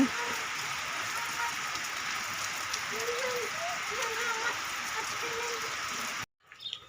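Rain falls steadily in a forest, a dense even hiss that carries on for about six seconds before cutting out abruptly, with faint voices low beneath it.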